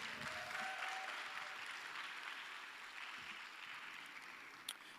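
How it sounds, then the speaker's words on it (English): A crowd at an academic presentation competition gives a round of applause for a contestant, a soft, continuous spread of clapping heard from a distance that holds steady and fades slightly toward the end. "Can you please give Kabelo another round of applause?"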